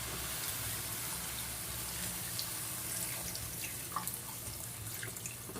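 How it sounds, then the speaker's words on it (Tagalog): One cup of water is poured into a cooking pot for fish adobo (adobong galunggong), a steady splashing trickle with small drips, close and alone. "maglalagay tayo guys ng tubig na 1 cup"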